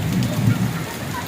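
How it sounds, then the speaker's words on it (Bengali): Heavy rain falls hard in a brief, loud, dense wash with a low rumbling undertone, close by and without voices. "এর মধ্যেই দেখো কী পরিমাণে বৃষ্টি"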